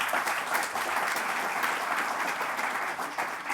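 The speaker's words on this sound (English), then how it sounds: "she also deserves some applause from the audience" Steady applause from a conference audience for the moderator at a bioenergy event, a dense, even patter of many hands held at a constant level throughout.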